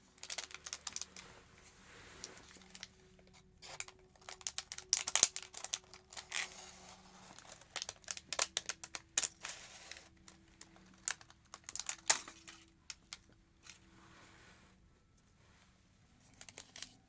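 Scissors trimming hair in a salon setting, close and soft, as a series of irregular crisp snips and small rustles over near silence.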